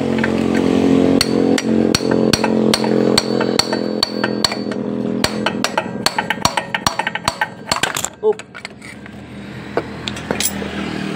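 Sharp metallic taps strike a Yamaha Mio 125 motorcycle engine with an engine knocking fault, repeating at a steady pace over a running engine hum, growing more irregular toward the end.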